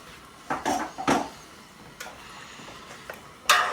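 Milk is stirred in a cheese-making vat, heard as a few irregular metallic knocks and clanks of the stirring tool against the vat, with quieter gaps between them.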